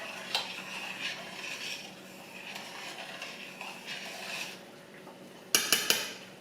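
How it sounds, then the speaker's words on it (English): Seasoning being stirred in a bowl while making Chinese congee: soft scraping and rubbing against the bowl, then a few sharp clinks of a utensil striking the rim near the end, close by and fairly quiet. "we're gonna mix really well, so we can get all the"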